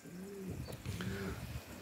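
Pigeons coo softly in a few low, rolling calls, faint and somewhat distant against a quiet background, with no talk.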